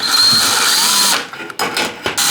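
A power drill backing screws out of an old wall heater, heard close and loud as one sustained whirring run that breaks off into short stuttering bursts and clicks.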